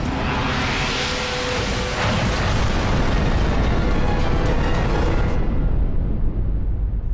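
A powerful laser strikes and vaporizes a target in a lab, producing a loud roaring blast that sustains for several seconds with a heavy low rumble before the high end cuts off abruptly.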